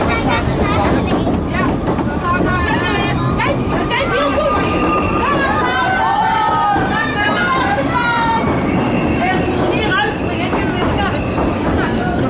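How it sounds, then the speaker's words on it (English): A small park train runs through the Efteling theme park in the Netherlands, its loud, continuous rumble mixed with wind buffeting and crowd babble, while people talk nearby over the noise. "Just as you can see there outside, a little train and going through the entire park"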